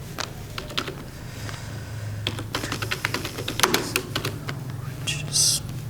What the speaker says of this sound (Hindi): तो हम यहाँ पर टाइप करते हैं कीबोर्ड से।